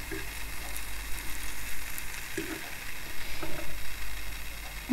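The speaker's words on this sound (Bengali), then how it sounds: "আমি অলরেডি কিছু জিলাপি তেলে ছেড়ে দিয়েছি" Jalebi batter frying in hot oil for crispy Bangladeshi jilapi, a steady bubbling sizzle with a soft pulsing rise and fall and a few light utensil taps.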